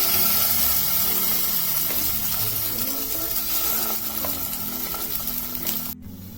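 Mashed mixed vegetables for a stuffed paratha fry in hot oil in a pan: a continuous, close sizzle with stirring scrapes that ends abruptly near the close.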